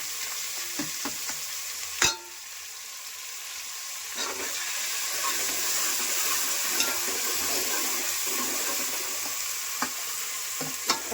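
Green garlic, ginger paste and green chilies sizzle in a hot oiled pan, a steady bright hiss under clinks and scrapes of a spoon stirring, with no voices.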